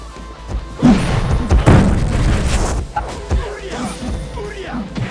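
Loud booming shots and crashes from game combat, several heavy bursts in quick succession with rumbling echoes, a voice talking in between.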